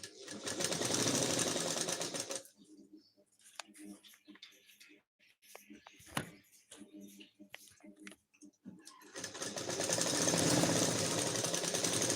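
A sewing machine stitches a princess cut blouse in two steady whirring runs, one at the start and one at the end, with quiet handling noises and pauses in between.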